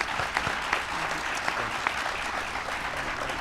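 Audience applause at a presidential nomination event for a Secretary of Health and Human Services, a steady, dense wash of many hands clapping from a large crowd, continuous throughout.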